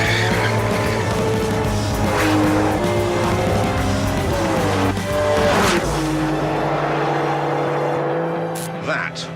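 A Ferrari 599 GTB makes a launch control start, its engine roaring loud and close with sustained tyre squeal before the sound fades as the car pulls away.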